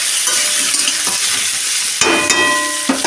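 Young jackfruit fries in oil in a karai with a steady, close hiss and sizzle, broken by sharper scrapes and clatters of stirring near the end; no voices.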